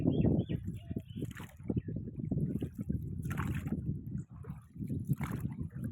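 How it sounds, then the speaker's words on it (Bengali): A grandfather's wooden fishing boat moves through river water near a forest, with steady rhythmic sloshing and churning close by and no talking. "আজকে যাচ্ছি ঠাকুরদার নৌকায়"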